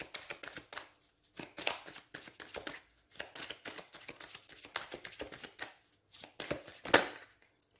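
Tarot cards shuffled and drawn by hand for a reading, a run of rapid riffling and flicking bursts with short pauses between them, close and fairly soft.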